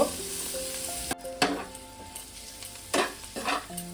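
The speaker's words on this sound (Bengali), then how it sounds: "হলুদও দিলাম হাফ চামচের একটু বেশি, দিয়ে ওটাকে আমি ভালো করে মশলাটাকে একটু কষিয়ে নেব।" Onion and spice paste with turmeric sizzles as it is sautéed in a pan for a fish curry, a steady frying hiss broken by a few scraping stirs, close up with no voices.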